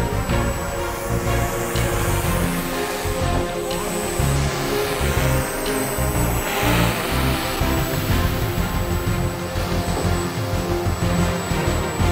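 A small Tiger Moth RC model airplane in flight, its tiny electric motor giving a steady high whine over a continuous rushing drone outdoors, fairly loud throughout, with no talking.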